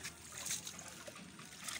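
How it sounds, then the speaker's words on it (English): Oil bean seeds are rinsed in cold water in a bowl, giving a quiet, continuous trickle and light splashing with no speech. "Then you wash with cold water."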